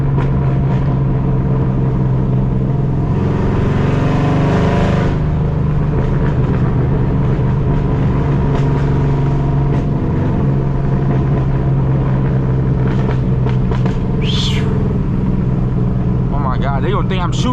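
A loud 500-horsepower car drives past schools and colleges, its exhaust popping and crackling over a constant heavy engine rumble, with sharp bursts standing out near the end. A voice talks over it.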